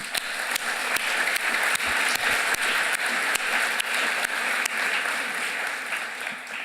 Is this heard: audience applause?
yes